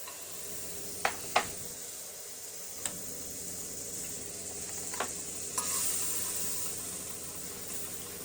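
Butter melting in a hot frying pan gives a quiet, steady sizzle and hiss, broken by a few sharp ticks and pops, with no one talking.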